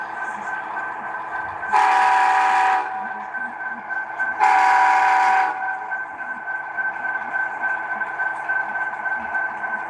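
A model railroad locomotive sounds its horn in two sustained blasts, each about a second long, over a steady background hum, with no talk. The bell is not clearly picked out.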